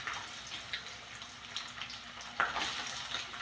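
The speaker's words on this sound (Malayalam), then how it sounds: "അപ്പം നമുക്കാദ്യം വറുത്ത് കോരാം" Chopped ginger fries in hot oil in a pan with a steady close hiss, plus a louder surge of sizzling near the end, and no talking.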